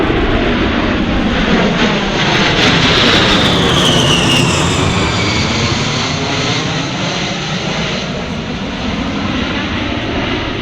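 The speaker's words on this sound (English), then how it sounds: "Jump from Airshow right, your A-10 Thunderbolt 2s." A-10 Thunderbolt II jet flying a demonstration at the St. Louis airshow, a loud sustained engine roar with a sweeping high whine as it passes close by, steady throughout.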